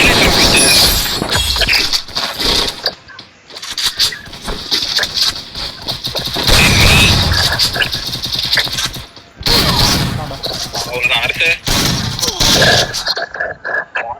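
Explosives and gunfire going off in a video game during a Saturday evening match, heard as bursts of sharp blasts and crackling shots that come and go over the whole stretch, loud and close, with faint talk underneath.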